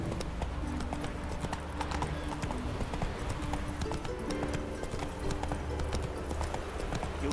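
Roach the horse galloping in The Witcher 3 video game, a dense, continuous drumming of hoofbeats held at a steady loud level throughout, with faint voices underneath.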